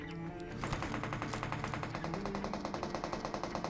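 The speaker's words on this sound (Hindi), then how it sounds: "ये गन फाइट का साउंड था सामने इस वाली स्टैचू से" Rapid automatic gunfire from a firefight in PUBG's Erangel map rattles in a fast, even burst, heard at a moderate distance and fairly faint.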